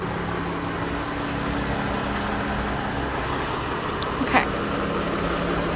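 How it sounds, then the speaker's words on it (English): A 2023 Mercedes-Benz Sprinter Class B RV van's engine runs at a steady, loud idle while the van is moved. A brief word is spoken, and a faint clink is heard near the end. "he's repositioning the van so that I have space on the other side to remove the mud flap"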